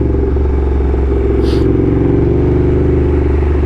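Motorcycles and cars on a busy Sunday road, heard as a loud, steady engine drone with low rumbling harmonics that holds throughout, with no voices.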